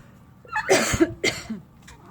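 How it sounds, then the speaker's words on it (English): Two sharp coughs close to the mic, the second followed by a softer trailing hack, with a faint breath after. "Sorry, got a cough."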